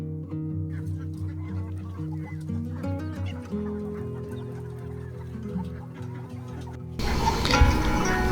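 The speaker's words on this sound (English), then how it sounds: "Come to feed the chickens with us." Chickens cluck and call close by at feeding time on a farm, a busy overlapping chorus, followed near the end by a sudden burst of louder rustling noise.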